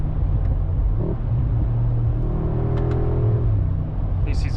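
A 2025 Mercedes-AMG G63 SUV pulling hard, its engine a deep steady rumble heard from inside the cabin as the pitch climbs slightly with acceleration, loud and continuous.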